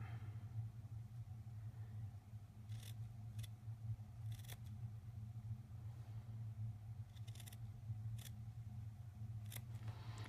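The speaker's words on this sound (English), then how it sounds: "Have to have sharp scissors though." Several brisk snips of scissors, short and crisp, over a steady low hum; no talking.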